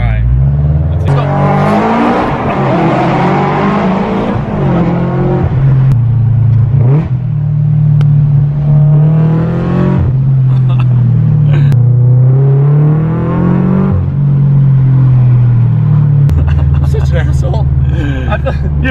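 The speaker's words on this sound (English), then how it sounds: "BRZ is really loud. We're boosted now, so that only means one thing. There's a tunnel in front of us." A boosted Subaru BRZ roars as it accelerates hard through a tunnel, its loud, rising engine note echoing steadily throughout while people talk over it inside the car.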